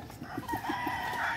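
Chickens in a Tanay, Rizal yard, a rooster crowing with a rising cry while hens cluck faintly nearby, close and moderately loud with no talk.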